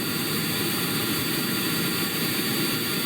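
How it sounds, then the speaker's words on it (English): Air-breathing VTOL jet engines on a spaceplane in Kerbal Space Program roar steadily, a loud, unbroken, close engine drone with no pauses. "Air breathing VTOL engines."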